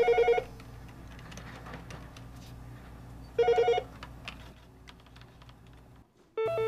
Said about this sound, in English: When the phone rings, answer it.